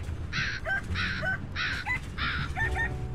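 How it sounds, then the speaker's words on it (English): Harsh crow-like cawing in the video game A Hat in Time, four loud rasping calls in an even rhythm, each followed by a short higher note, over a low background hum. "It's like a rooster crowing, almost."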